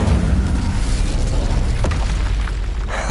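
In Hogwarts Legacy, the Incendio fire spell bursts with a loud, dense roaring boom that fills the whole moment, sustained rumble with a sharp crack midway.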